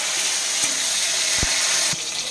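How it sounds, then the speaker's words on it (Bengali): Tomatoes going into a pan of frying cumin and whole garam masala, giving a loud, steady hiss with a couple of short thumps as pieces land. "এবার এর মধ্যে টমেটো দিয়ে দেবো।"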